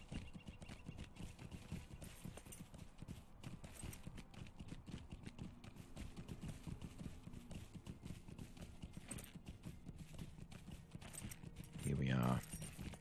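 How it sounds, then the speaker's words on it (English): Horse hooves clip-clopping at a steady riding pace in the online game Lord of the Rings Online, with jingling tack, running continuously under busy game sounds and a brief louder burst near the end. "Let's head on our horse and ride up."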